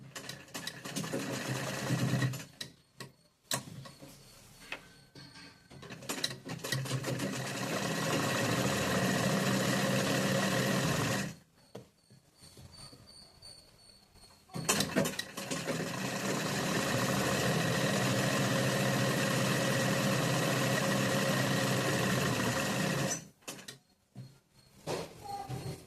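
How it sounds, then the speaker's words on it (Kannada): Sewing machine stitching patiala pants slowly, running in long steady bursts with short pauses between seams, close and fairly loud with no talking. "ಹಾಗಾಗಿ ನಿಧಾನಕ್ಕೆ ಸ್ಟಿಚ್ ಮಾಡಿ ತೋರಿಸ್ತಾ ಇದ್ದೀನಿ."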